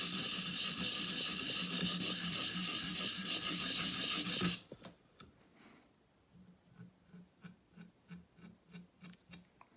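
A 511 Recurve knife is sharpened with a loud continuous rasping grind that abruptly stops, followed by a series of faint, evenly spaced light strokes.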